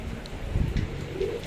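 Pigeons coo in the courtyard of a house. The low, throaty cooing repeats softly over a steady background hum.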